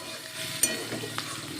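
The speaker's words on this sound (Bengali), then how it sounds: "পেঁয়াজগুলি ভাজা হচ্ছে।" Chopped onions frying in a pan in a home kitchen, a soft low sizzle with a few stirring clinks and scrapes, quiet and close.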